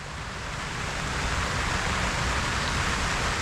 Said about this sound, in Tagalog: ayan nga po at umuulan